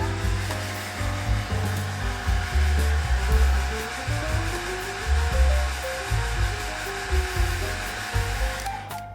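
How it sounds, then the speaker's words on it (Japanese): A hair dryer blows steadily at close range over a watercolor-pencil painting of the sea, producing a loud continuous whooshing roar with a low motor drone that holds for the whole stretch and has no talking. "ドライヤーで乾かします。"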